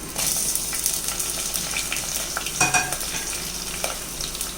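Chopped shallots and green chillies fry in coconut oil, a bright steady sizzle broken by scraping stirs of a spoon in the pan, close and alone without voices.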